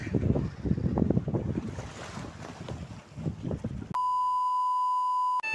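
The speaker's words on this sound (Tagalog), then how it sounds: "kasi mahangin dito ngayon sa Delma" Gusty wind at sea buffets the microphone in low rumbling bursts, loud and close, then a steady electronic tone cuts in for the final seconds.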